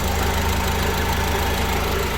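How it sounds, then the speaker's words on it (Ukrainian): A 2016 Peugeot Boxer van engine idles steadily nearby, a constant low rumble with a faint rhythmic knock and no voices. "Двигун чисто гарно працює"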